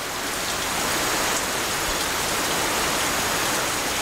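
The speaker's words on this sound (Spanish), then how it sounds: "Nyungwe es un bosque nuboso. Aquí llueve casi cada día." Rain pours steadily through the Nyungwe montane cloud forest, a dense, even hiss of countless drops that never lets up, with no voices or other sounds.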